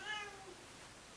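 A pet cat gives a single short meow at the start, quiet and close in an otherwise hushed room.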